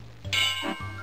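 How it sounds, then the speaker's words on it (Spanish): Quasimodo rings church bells in the Hollywood Monsters video game: a single bright ding that lingers briefly, followed by a duller lower clang, heard alone. "¡Campanas americanas! Suena muy extraño."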